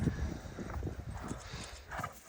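Horses walk on open ground in mountain pasture country, their hooves clip-clopping in an uneven close rhythm, with brief faint voices in the background.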